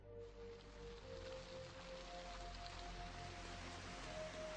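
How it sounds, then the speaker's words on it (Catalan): Heavy rain falls in an animated scene as a steady, faint wash of hiss, with a low hum and a soft tone running beneath and no voices. "Oh, ostres, quina manera de ploure!"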